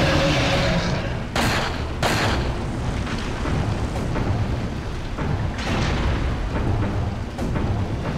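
Gunshots fired at a boss's eye in the video game Resident Evil 4, several loud, sharp blasts spaced a second or more apart over a dense, rumbling battle din.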